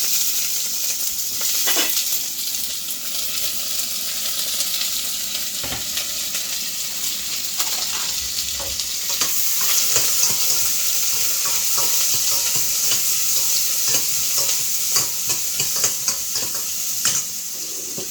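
Chopped green chilies, garlic and onion frying in hot oil with fenugreek seeds, a steady close sizzle with scattered spoon scrapes and stirs throughout, no talking.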